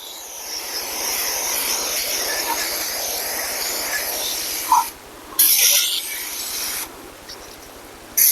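A 10.3 by 14.5 inch baking pan being coated with grease, heard as a close hissing spray followed by a few short bursts and soft rubbing.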